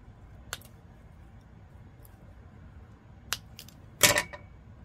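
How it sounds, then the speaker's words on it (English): Wire being snipped on a crystal craft project, with a faint click early, another near the three-second mark and a sharper, louder snip at about four seconds, all close and alone in a quiet room. "I'm going to cut the wire."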